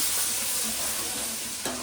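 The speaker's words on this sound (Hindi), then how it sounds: "हाँ तड़का लग गया मस्त" Steady sizzling and crackling of chopped garlic frying in hot oil for a tempering, loud and close, with a brief clatter near the end.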